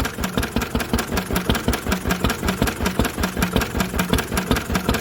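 An old Lister engine idling after its first start in 40 years, thumping in a steady, regular beat with a knocking, clattery edge, loud and close and heard on its own.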